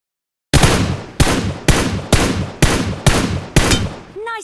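Seven loud, evenly spaced gunshots ring out in PUBG, each a sharp crack with a short decaying tail, about half a second apart, followed by a brief ringing tone.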